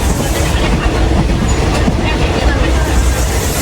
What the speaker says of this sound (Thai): รถไฟธรรมดาขบวน 201 นะครับกรุงเทพพิษณุโลก